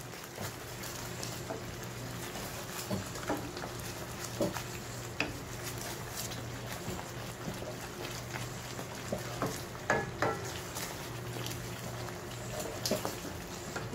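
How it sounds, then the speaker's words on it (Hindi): Navratan korma of mixed vegetables gets stirred with turmeric and garam masala in a pan, a soft steady simmering sizzle with a faint hum and scattered light spoon scrapes throughout, fairly quiet, with no talk. "अच्छी तरह से मिक्स कर लेंगे इसको।"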